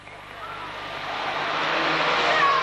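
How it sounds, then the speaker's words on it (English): Racing vans at a 1991 Braintree Auto Club meeting roar along the back straight, a broad engine and tyre rush that swells steadily louder as they close in, with a faint voice underneath. "They race along the back straight."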